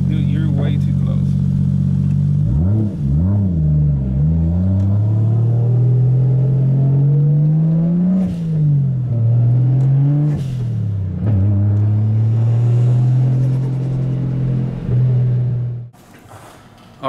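1JZ engine in a Nissan S13, loud and close, with a steady throaty rumble that swells and dips through several revs before cutting off near the end.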